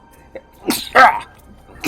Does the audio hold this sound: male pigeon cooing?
no